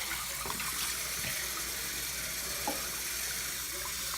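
Running water from a tap splashes steadily as herbal conditioner is rinsed out of hair, a soft continuous wash with small irregular splatters, fairly quiet and with no voices.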